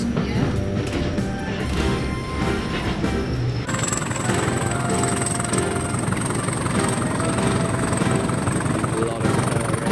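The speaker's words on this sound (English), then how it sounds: "Class 20's got a good engine sound at least. I do like first generation old rumbly diesels like this." A first-generation Class 20 diesel locomotive rumbles loudly with a deep, steady engine roar, joined midway by a high whine, at a heritage railway in Kent and East Sussex.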